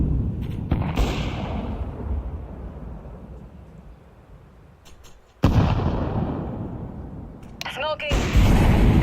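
Grenade and incendiary blasts in Counter-Strike 2 arrive as two heavy, rumbling booms, each followed by a long decaying roar. Sharp clicks and game noise sit around them.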